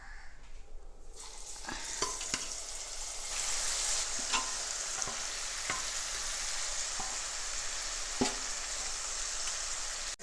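Large fish pieces frying in oil for fish pickle sizzle steadily at moderate volume, with scattered clicks and pops throughout and no voices.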